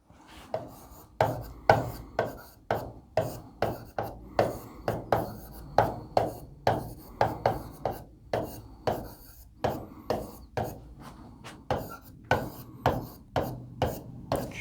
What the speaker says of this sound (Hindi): चलिए 2-3 मैं लाइनें और लिखता हूं।